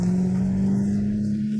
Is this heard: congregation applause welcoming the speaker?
no